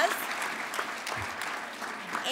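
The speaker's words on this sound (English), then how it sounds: "let's give them a great round of applause" Audience at an awards ceremony applauding steadily, a dense patter of many hands clapping at moderate volume throughout, with no speech over it.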